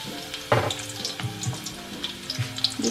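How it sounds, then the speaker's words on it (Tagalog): Onion and garlic sautéing in a pan for lechon paksiw, a steady close sizzle with scraping stirs and a few clinks of the utensil against the pan, no voices. "So, gisa ko lang yan."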